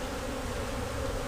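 Honey bees buzz steadily around hive frames, a close, continuous droning hum with no voices.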